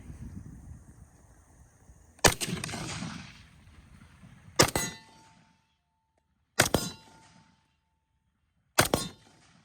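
Four loud, sharp shots from an M1 Garand rifle, spaced about two seconds apart, each with a metallic ring and a short echo trailing off.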